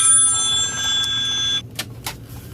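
A telephone rings for a hotline call, steady electronic ringing tones for about a second and a half, then a few short sharp clicks as the handset is picked up, heard alone with no talk.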